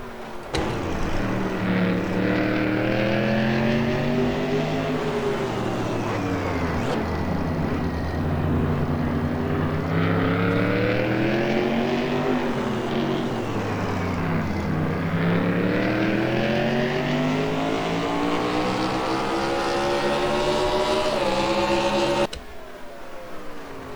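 Onboard a race car in the Coca Cola Super Series at Trois-Rivières, a loud sustained engine drone rising and falling in pitch through gear changes and corners, cutting off abruptly near the end.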